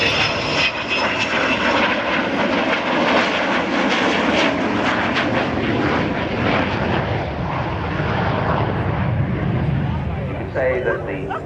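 Avro Vulcan Mk II XH558 jet bomber flying at the Dunsfold Wings & Wheels Air Show in Surrey, its loud, sustained roaring engine noise filling the air while a commentator speaks over it.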